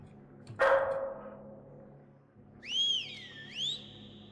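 A dog barks in the horror video game Lost in Vivo: one sharp, close bark, then a pause, then a high wavering whistle-like yelp rising and falling twice, with a quiet low hum underneath.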